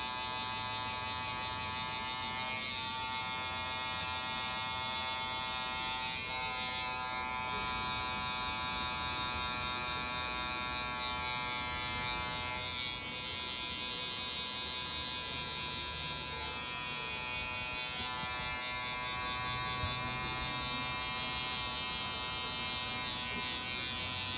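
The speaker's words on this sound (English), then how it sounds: "Now we're gonna go ahead with the trimmers." Electric hair clippers buzz continuously while trimming a man's hair and beard at home, a close, steady drone that holds the same pitch throughout with no talking.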